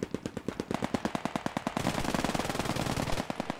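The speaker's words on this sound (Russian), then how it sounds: "Ну я в него стреляю." Rapid sustained machine gun fire in the WWII shooter Post Scriptum, aimed at a machine gun nest on a building's top floor; fast evenly spaced shots rattle on, then a second gun joins into a denser, louder overlapping burst.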